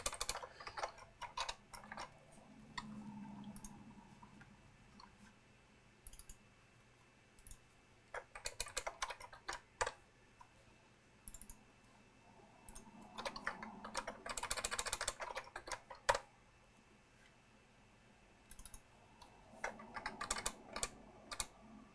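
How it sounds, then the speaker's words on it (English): Typing on a computer keyboard during electronics design work at a desk, with quiet, scattered bursts of rapid key clicks separated by pauses, close and fairly soft with no talking. "I'm flailing a little bit on that keyboard"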